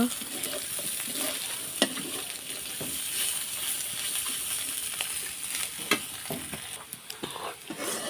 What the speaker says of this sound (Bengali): আমি এটা লাল লাল করে ভেজে নেব।